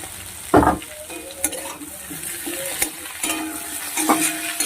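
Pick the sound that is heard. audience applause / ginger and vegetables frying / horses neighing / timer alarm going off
ginger and vegetables frying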